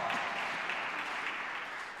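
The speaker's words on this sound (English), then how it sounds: "give Kyle another round of applause" Steady applause from a crowd at a confirmation retreat, a dense wash of clapping that holds evenly for the whole stretch with no voices over it.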